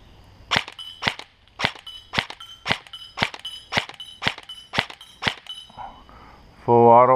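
A springy airsoft gun fires about eleven sharp, evenly spaced pops, with a brief voice cutting in at the end.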